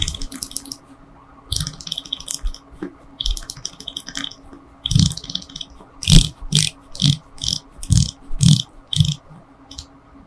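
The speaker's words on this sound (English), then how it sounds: "Now let's go ahead and see how this bezel performs." A black ceramic bezel with white numerals on a Seiko Prospex SPB475 1968 Heritage Diver's GMT being turned, giving series of crisp ratcheting clicks in short bursts. The clicks grow denser and louder toward the end, close up with no talking.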